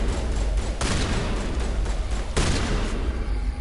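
Gunfire in the Mass Effect game comes as dense, loud, continuous shooting with sharper bursts standing out, close and steady throughout, with no talk.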